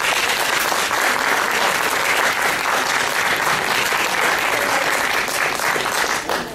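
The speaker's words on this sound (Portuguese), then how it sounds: "Peço uma salva de palmas para a Lúcia." Loud, sustained applause from an audience at a journal launch event, dense clapping filling the room steadily for several seconds.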